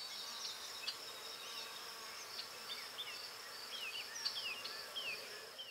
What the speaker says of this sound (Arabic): فنحن في أوج فترة توالد النحل، وعما قريب ستخرج من خلاياه زمرة نحل جديدة